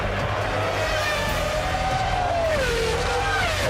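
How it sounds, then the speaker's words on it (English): V10 Formula 1 race car engines at the 1998 Belgian Grand Prix, a steady high-pitched wail whose pitch slides down and back up as the cars change speed, constant and loud against crowd-like background noise. "can we just take a minute to appreciate these V10 sounds?"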